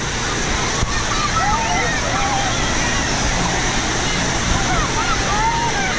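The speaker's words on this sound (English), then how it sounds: "So here you go. The waves are going right now." Wave pool waves surge and slosh steadily at Hurricane Bay Water Park, Kentucky Kingdom, with a busy crowd's distant babble and occasional shouts mixed into the continuous rushing water.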